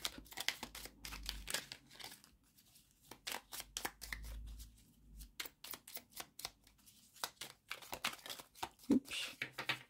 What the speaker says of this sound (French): On va aller tirer une carte des accords Toltec.